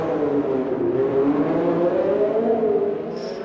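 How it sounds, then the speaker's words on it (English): Race cars in a racing game sweep through the tunnel at the Abu Dhabi circuit, a steady, loud, echoing engine drone with rising whine that fades slightly at the end. "That sound of that tunnel is fantastic. Them cars coming through."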